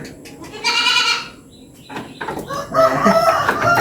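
Goats on a farm, newborn kids with their mother, bleating in a few wavering cries close by, with a rooster crowing and chickens clucking in the background.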